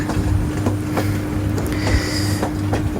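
A train runs through the Bangladeshi countryside between Bogura and Bonarpara with a loud, steady rumble and rhythmic clickety-clack beats repeating about every half second.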